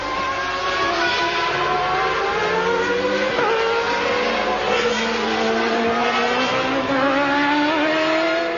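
1995-season Formula 1 race cars screaming past, their high engine whine rising and falling in pitch as several cars pass in a continuous loud roar.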